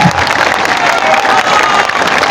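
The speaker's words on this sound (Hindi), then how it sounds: "जोर से बजाइए ताली" Crowd at an outdoor political rally in Bihar clapping loudly after being urged on, a brief dense burst of applause with some cheering, close and strong.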